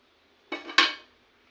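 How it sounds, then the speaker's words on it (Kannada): Ingredients such as tomato and fresh ginger dropped one by one into a mixie jar for a chicken curry paste: two quick close clatters against the jar, alone, with no talk. "ಮಿಕ್ಸಿ ಜಾರ್ಗೆ ನಾನೀಗ ಎಲ್ಲವನ್ನು ಒಂದೊಂದಾಗಿ ಹಾಕ್ಕೊತಾ ಇದ್ದೀನಿ."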